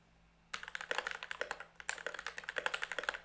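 Keys on a computer keyboard clatter in quick, uneven bursts of close, crisp clicks, starting after a brief quiet moment and continuing with a short pause midway.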